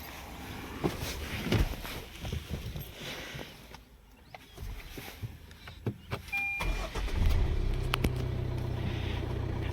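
A 1.5L diesel Tata Altroz XZ, a 2023 model, starts up partway through and settles into a steady low idle rumble, heard close by after some quieter shuffling and clicks.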